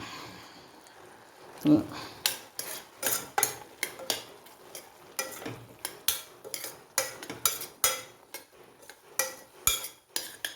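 A spoon repeatedly scrapes and taps against a mixer-grinder jar in sharp, irregular clinks, close by and quiet otherwise.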